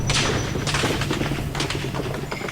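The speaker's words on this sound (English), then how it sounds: "you just hear this thunderous sound of gunfire" Gunfire from army troops firing live ammunition at the 1989 Tiananmen Square protest rings out as a rapid, harsh burst of reports over a dense, loud background roar.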